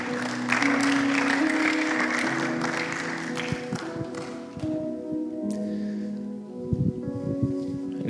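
A congregation claps hands in praise during a worship gathering, with scattered clapping over sustained music-like tones that fades partway through, leaving quieter taps and sounds.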